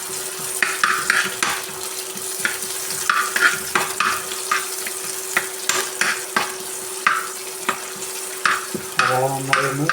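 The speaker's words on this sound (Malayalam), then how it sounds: "ബ്രൗൺ കളറാകുന്ന വരെ ഒന്ന് വഴറ്റിയെടുക്കാം." Chopped onions sauté in a pan with mustard seeds, sizzling softly while a utensil stirs and scrapes in repeated taps and strokes, with no voices.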